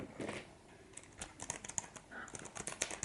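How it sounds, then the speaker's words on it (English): Soft, quick keystrokes tap on a small tablet keyboard up close, an uneven patter of clicks at a quiet level. "I can type from further away, but it sounds so nice."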